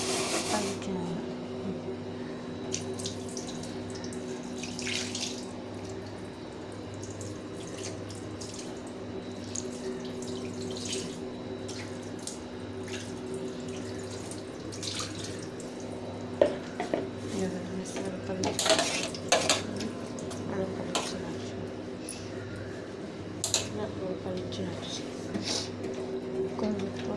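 Dishes washed with soap under a running kitchen tap: water streams steadily while dishes clink and scrub at intervals, with occasional louder knocks and a voice speaking now and then.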